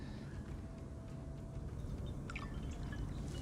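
Water trickles steadily into a glass of raki, a soft continuous pour with faint splashes and a few brighter drips near the end.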